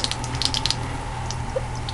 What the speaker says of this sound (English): And just get the water going.